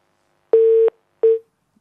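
A cut-off phone call giving way to a clean telephone tone, one steady beep of about a third of a second followed by a shorter second beep, clear and alone with no talk.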